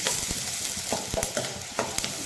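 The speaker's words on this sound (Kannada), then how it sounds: "ಆ ರೀತಿ ಫ್ರೈ ಮಾಡಿ ನೋಡಿ, ಚೆನ್ನಾಗಿ ಫ್ರೈ ಮಾಡಿ." Onions frying in a pan while being stirred, a steady close sizzle broken by repeated scraping stirs that come roughly every half second.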